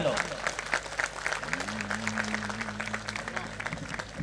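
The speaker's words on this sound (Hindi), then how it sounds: "तालियों से इस्तकबाल कीजिएगा सब लोग।" A small audience at a Hindi poetry gathering in Bangarmau claps in quick, uneven bursts that continue throughout, while a voice talks over the applause.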